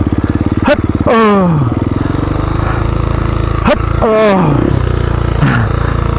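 A motorcycle engine revving in bursts during slow-riding practice in sand, with sharp rising throttle blips over a steady idle, close and loud, and someone speaking between revs.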